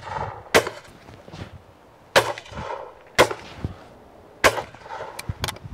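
A Beretta 687 Silver Pigeon 3 compact over-and-under shotgun fires at pairs of clay targets outdoors, with four sharp, loud reports spaced a second or more apart and faint shuffling between them.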